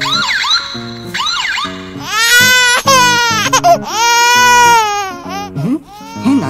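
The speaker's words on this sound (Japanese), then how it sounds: "変だな、近くで赤ちゃんの泣き声が聞こえるぞ" A baby cries nearby in a toy play scene with a police motorcycle and a truck. The wails are loud, close and repeated, rising and falling in broken bursts with short gaps.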